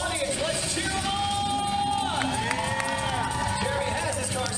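Audience at a Universal Orlando show cheering and yelling, a loud continuous crowd roar with whoops and rising shouts, voices overlapping throughout.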